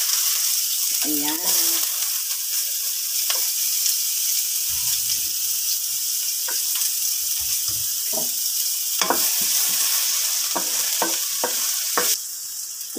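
Chopped onion and tomato sautéing with garlic in a pan, a steady sizzle under occasional stirring scrapes and clatter, with a brief spoken word over the cooking.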